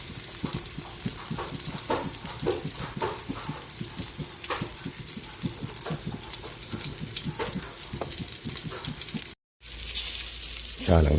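Eggplant dipped in beaten egg fries in hot oil with a steady, dense sizzle and spatter, plus occasional clinks and stirring; a brief dropout near the end, then the sizzle resumes.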